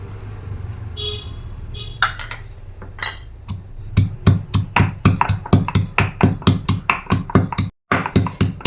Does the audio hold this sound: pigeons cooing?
no